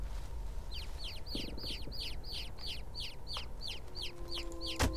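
A chicken in the video game Niffelheim gives a rapid, steady string of bright clucks over a low game ambience, ending with a brief sharp thump.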